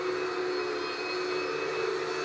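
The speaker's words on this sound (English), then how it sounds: "So this is vacuum noise, vacuum cleaner." Vacuum cleaner noise played back as a test sound for a direction-of-arrival microphone system: a steady, loud, even whine and hiss with no change, alone with no voices.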